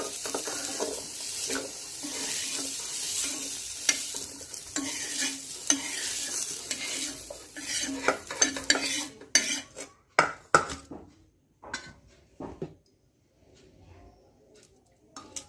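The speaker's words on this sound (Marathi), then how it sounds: "आपण फ्लावर परतून घेतलेला आहे आता गॅस बंद करूया आणि हे काढून घेऊया" Stirring and scraping cauliflower in a pan with a soft sizzle, clattering utensil hits growing sparse and intermittent toward the end, close by.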